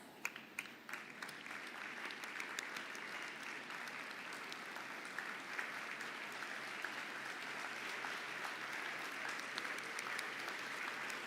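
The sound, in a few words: audience applause for departing graduates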